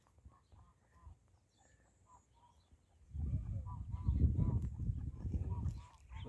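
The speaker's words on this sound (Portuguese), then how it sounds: "A galinha com os filhotes de guiné, né?" Poultry sounds near a hen with guinea fowl chicks on a muddy farmyard: soft scattered peeps at first, then a louder burst of honking, goose-like calls that builds and holds to the end.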